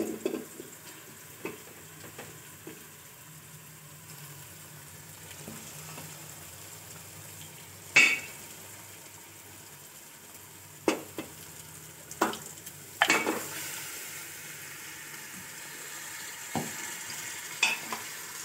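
Boiled beef trotters cook in masala in a pot, giving a soft steady sizzle broken by several loud clanks and scrapes of a spoon against the pot, with no talking.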